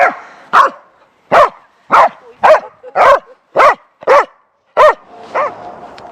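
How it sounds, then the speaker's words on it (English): A dog barks repeatedly outdoors in the snow, about nine loud, close, sharp barks at a fairly steady rhythm, ending with a softer yelp-like bark and faint background noise. "Cute dog."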